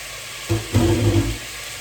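A burst of sizzling starts abruptly as onions hit a hot pot, crackling loudly for under a second before settling back to a low hiss.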